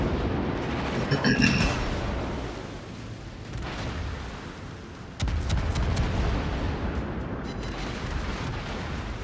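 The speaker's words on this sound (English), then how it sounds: "And also get a salvo off on the hood." A warship's main battery fires a salvo at the Hood during a World of Warships naval battle, heavy booming blasts rolling out over a dense rumbling background, with a second strong burst midway.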